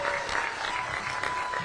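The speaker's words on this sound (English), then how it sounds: "Round of applause for Tony Schiavone, ladies and gentlemen." A live-stream studio audience applauds briefly, a short burst of continuous clapping at steady loudness with no talking over it.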